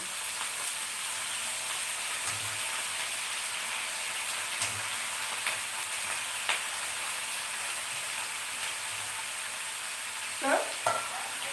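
Eggplant pieces fry in a hot pan with a steady, close sizzle and crackle. Occasional stirring scrapes break through, and no one speaks.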